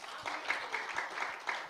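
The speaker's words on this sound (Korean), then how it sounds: "박수, 박수." A church congregation claps during a Korean sermon, the applause rising and falling steadily for a moment at moderate loudness.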